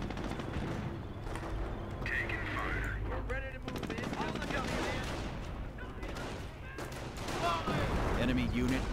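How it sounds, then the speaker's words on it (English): Dense battlefield gunfire from mortars and flak guns in the World War II game Company of Heroes, with continuous rattling bursts and booms layered together, and someone talking over the combat. "So that's my mortars coming in, so there'll be some flak guns."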